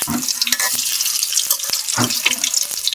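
Banana blossom fritters frying in hot oil while the pieces are flipped one by one, a bright crackling sizzle broken by repeated soft knocks and scrapes of the spatula against the pan.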